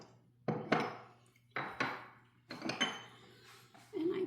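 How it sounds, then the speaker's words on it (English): Washed, dried Brussels sprouts are tipped onto a metal baking pan in a home kitchen, giving four separate rattling clatters with quiet pauses between them, close and moderately loud, with a faint steady hum underneath. "I just put my Brussels sprouts on my pan"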